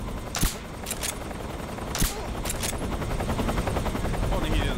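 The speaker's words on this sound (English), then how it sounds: "I hear a helicopter." Helicopter rotor chopping steadily through the Metal Gear Solid 3: Snake Eater jungle, with sharp gunshot cracks near the start and around two seconds over continuous game ambience.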